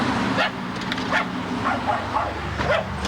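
An old dog barks and yips repeatedly at close range, a string of short loud bursts with whimpering between them.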